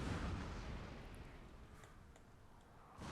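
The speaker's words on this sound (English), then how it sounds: "And I aim it towards the general with a canister shot." Canister shot artillery fire in the video game Napoleon: Total War at the battle of Borodino, a dense broadband rumble of cannon blasts and scattered crackling impacts filling the whole stretch without speech.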